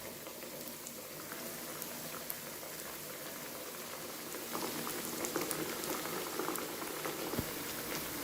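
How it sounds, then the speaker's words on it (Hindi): Potato donuts deep-fry in hot oil, giving a dense, continuous bubbling crackle that holds steady throughout and grows slightly busier partway through, with no voices. "अब ये जो बाकी के पोटैटोस डोनट्स हैं इनको भी मैं फ्राई कर लेती हूँ।"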